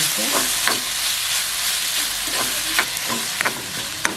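Onion and tomato with salt frying in a pan, giving a continuous loud sizzle broken by repeated scraping strokes of a stirring spoon, close up and without talk.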